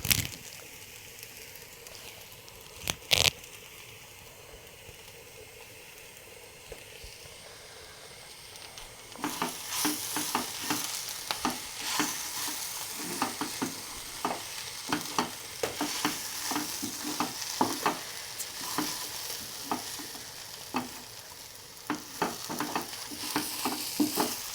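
Curry leaves hit a hot pan: after a quiet stretch with a single sharp clink, a close, crackling sizzle starts and continues with repeated scraping and stirring strokes.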